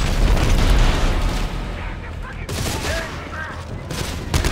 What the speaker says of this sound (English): It's clearly a fiery explosion.